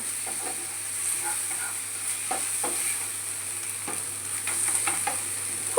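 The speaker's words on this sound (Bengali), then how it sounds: "পোস্তটা দেওয়ার পর ভালো করে নাড়াচাড়া করব।" Poppy seeds being stirred in a frying pan, a steady close sizzle and hiss with light intermittent scrapes of the spatula.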